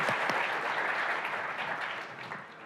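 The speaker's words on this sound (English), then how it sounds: "Round of applause, I think, for Megan here." An audience at an energy transition and critical minerals event applauds, steady, dense clapping throughout that gradually thins toward the end, heard alone without speech.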